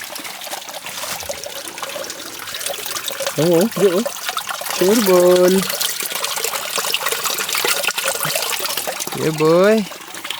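Water trickles steadily from a hose on a mountain trail, a faint continuous wash that runs under casual talk throughout.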